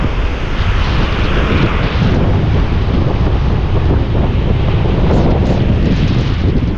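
Strong wind roars across the microphone over the steady wash of big waves at sea, a continuous loud rumble from a fishing boat caught out in a storm, with no voices.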